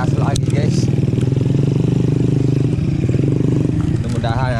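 An ojek motorbike on a rural rice-field track runs close with a throbbing engine that pulses steadily as it rides, while a voice talks over it.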